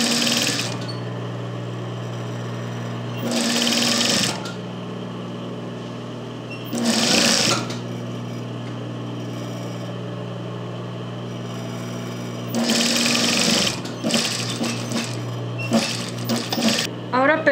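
Sewing machine stitching a simple hem on blouse sleeves, its steady mechanical whir running in several bursts of a few seconds each, alternating with quieter pauses while a person speaks.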